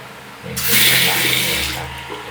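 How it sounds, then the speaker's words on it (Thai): An automatic water pump runs as shower water starts flowing, a sudden loud rush of spray over a low steady motor hum that then eases slightly. "ได้ยินเสียงปั๊มไหม ปั๊มมันจะตัดอัตโนมัติ"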